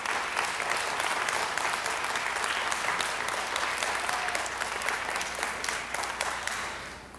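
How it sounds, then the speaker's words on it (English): Sustained audience applause in a city council chamber, many hands clapping in a thick steady roar that holds for several seconds before easing slightly at the end. "Could you give a round of applause to my mother, Gladys Wesson?"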